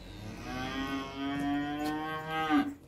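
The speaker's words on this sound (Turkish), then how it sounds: "Bu baştaki dana da habire böğürüyor ya." A calf moos loudly and steadily, one long drawn-out bellow lasting nearly three seconds that rises and swells near the end, heard close by on a farm with no talking over it.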